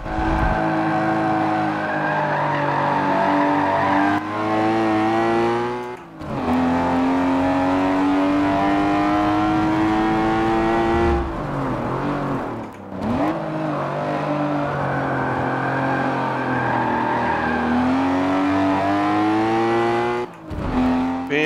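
Race cars in the racing video game Forza Motorsport 7, with a loud, continuous engine whine rising and falling through gear shifts, brief dips between shifts, and tire squeal in the corners.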